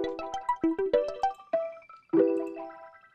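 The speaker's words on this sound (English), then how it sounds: "Bell for my one-shot kit with some crystallizer on it" A synthesized bell one-shot with a crystallizer effect, bright glassy notes that each ring out with shimmering, watery tails, heard alone in a short melodic phrase.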